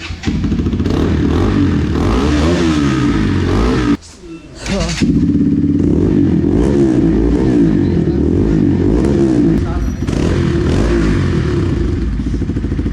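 A Bajaj NS200 motorcycle with an SC Project exhaust and dB killer fitted revs loudly and continuously close by, with a rough, burbling engine note, a brief dip in throttle partway through, then strong sustained revving.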